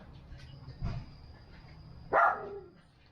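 A guard dog barks twice at a home, one short bark followed by a louder, longer one a moment later, with faint background hum between.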